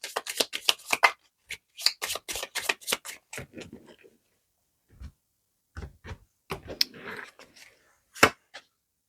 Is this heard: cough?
no